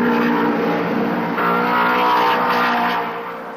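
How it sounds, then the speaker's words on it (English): Straight-eight Mercedes Grand Prix racing cars from the postwar era roar close by, a loud rising and swelling engine note that fades away at the end, heard alone. "The straight eight Mercedes engines sounded crisp and powerful"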